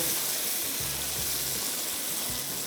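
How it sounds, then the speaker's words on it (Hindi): Mutton pieces fry in spice masala for Delhi-style bhuna gosht, giving a steady close sizzle that hisses continuously, with faint low hums rising and falling underneath. "हमने इसको भी थोड़ा सा भुनना है, गोश्त को, यानी इस मसालों में थोड़ा सा फ्राई करेंगे"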